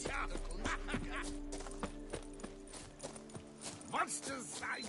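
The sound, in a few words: horse trotting in video game The Witcher 3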